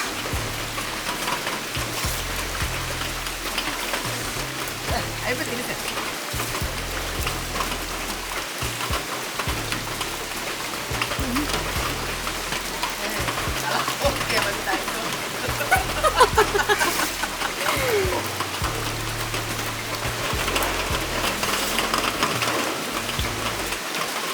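Rain falls steadily outdoors by a pool at a tree-house camp, a dense, even patter over the whole stretch with low voices faintly mixed in.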